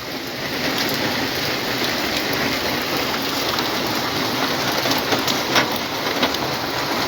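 Heavy morning rain in Comilla falls in a dense, steady hiss that stays loud and constant throughout, with no voices heard.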